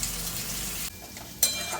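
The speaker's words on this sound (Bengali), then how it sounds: "একদিকে আমি কুমড়ো ভাজি করতে বসে দিয়েছি" Pumpkin pieces frying with salt and turmeric, a loud close sizzle that drops abruptly in volume partway through, then a brief sharp clatter from the pan; no talking.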